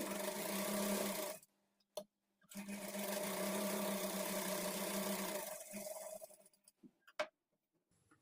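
A sewing machine stitches a blouse lining, running in two steady whirring bursts separated by a brief pause, followed by a few soft clicks and handling taps, close and alone.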